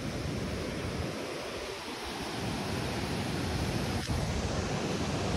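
High sea waves at Mandarmani beach, heard as a steady, dense roar of surf and wind filling the whole stretch, loud and unbroken with one brief sharp knock near the end.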